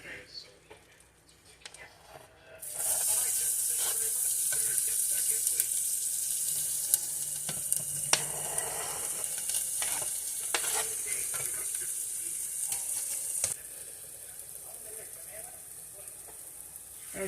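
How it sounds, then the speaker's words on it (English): Vegetables sizzle in melted butter in a pan, a steady bright frying hiss that starts abruptly and carries on with occasional stirring clatter, fairly close and loud, then drops to a softer sizzle near the end; a voice speaks briefly. "let's get the veg in with the butter"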